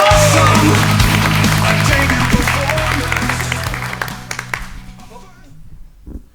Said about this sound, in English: Come on, a big round of applause. Let me hear you.